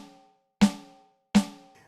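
Rim hits on a steel snare voice of a Roland TD-07KV electronic drum kit, two crisp, ringing strikes with a quick decay and a short gap between, close and fairly quiet.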